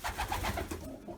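Ringneck doves kept indoors as pets coo in a steady run of soft, low, rolling calls, close and fairly loud with no talking over them.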